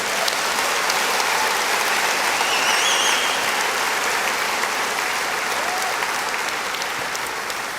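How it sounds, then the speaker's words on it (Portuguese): A church congregation claps throughout, a dense, loud and sustained crowd applause that holds steady for nearly eight seconds with a faint murmur of voices underneath. "Pode aplaudir Jesus, Ele é digno."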